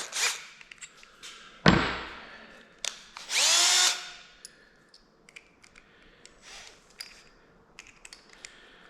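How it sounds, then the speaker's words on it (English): A power drill whirs in a short burst during a Kenworth K100E cabover truck restoration, close and loud, among scattered metallic clicks, a sharp thump and handling noises. "Let's use a drill, because then it doesn't hammer."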